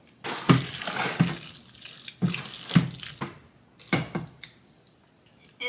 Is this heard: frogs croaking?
no